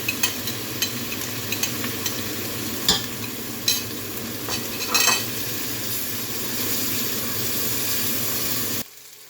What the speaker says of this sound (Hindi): अदरक लहसुन का पेस्ट डालने के बाद 1-2 दफ़ा चमचा हिलाया के